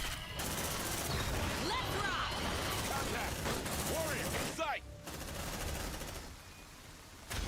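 Rapid automatic turret gunfire in the Aliens: Dark Descent video game, a dense continuous fusillade of shots and mechanical clatter with creature shrieks mixed in, and a brief voice beneath the din.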